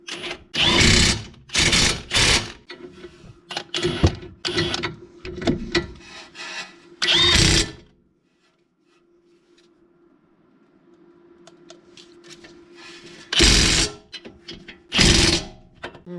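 An impact wrench fastens front brake parts back onto a B8.5 Audi A4 Quattro, firing in several loud, short hammering bursts separated by pauses, with a faint hum between them.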